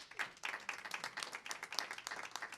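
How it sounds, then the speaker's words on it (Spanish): A church congregation claps in brief, moderately distant applause, a dense patter of many hands without voices. "Un aplauso al Señor"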